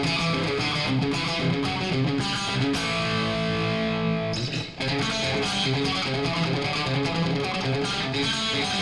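Electric guitar with a twangy, distorted tone picks a quick, dense lead lick at a faster tempo, with a brief held note partway through before the rapid picking resumes. Played loud and close with no talking.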